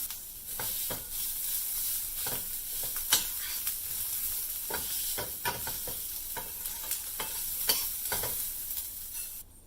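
Green chili, curry leaves and grated coconut sauté in a pan with a constant bright sizzle, punctuated by repeated sharp scraping stirs at an irregular rhythm, close and steady, with no voices.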